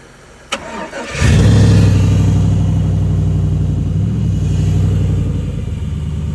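An LS-swapped parts truck engine cranks over after a sharp click and fires up, then settles into a loud, steady, rumbling idle close by, with no talking.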